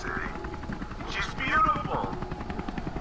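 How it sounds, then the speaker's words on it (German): Helicopter in the video game Happy's Humble Burger Farm: a rotor chopping drone with a bright whine rising midway, someone talking over it. "Gott, Hubschrauber Einsatz."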